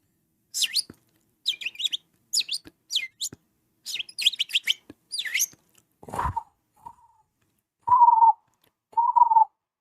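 Rapid high chirps and tweets in short bursts, followed by a few lower whistled notes, close and clear with silence between.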